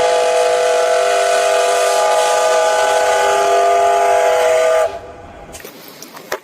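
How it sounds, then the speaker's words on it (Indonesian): A toy train plays a whistle-like electronic sound effect, a loud steady multi-tone horn held for about five seconds before cutting off, followed by faint clicks and handling noise. "ternyata kereta api"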